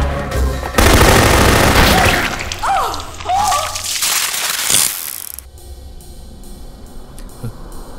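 Gunfire in a Tamil action movie fight scene: dense bursts of shots mixed with crunching impacts and fast whooshes, loud and layered, easing into a quieter stretch at the end.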